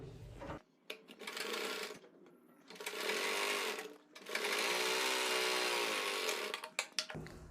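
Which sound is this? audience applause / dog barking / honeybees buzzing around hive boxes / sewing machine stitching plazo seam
sewing machine stitching plazo seam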